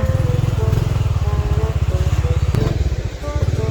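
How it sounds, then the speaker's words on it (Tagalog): A motorcycle engine putters loudly and close by with a rapid, even pulsing beat, steady throughout with a slight dip near the end. "Tingnan namin kung makakapasok ba yung motor"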